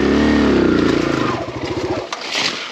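A Kawasaki KLX140RF dirt bike engine idles loud and close with a rough putter, then sputters and dies out as it stalls, leaving quiet outdoor background.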